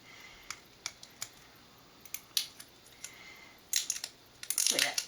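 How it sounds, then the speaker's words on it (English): Packing tape is pulled and pressed onto a cloth traveler's notebook cover. Sharp ticks and clicks come one at a time, then a louder burst of tape being unrolled and torn at the end, close and with no talking. "I'm just going to cover them with a layer of packing tape"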